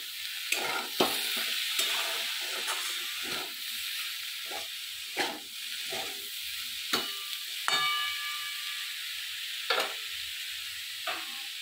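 Drumstick flowers and potatoes fry in a pan, a continuous sizzle and hiss broken by repeated scraping stirs of a spatula at an irregular rhythm, close and fairly loud, with no voices.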